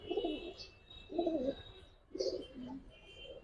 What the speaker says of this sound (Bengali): খুব অ্যাক্টিভ কবুতর গুলা, মাশাআল্লাহ।